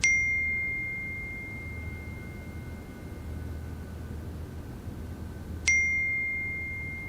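Two clear, high notification dings sound from a phone receiving messages, one at the start and another several seconds later, each ringing out briefly over a low, steady background hum.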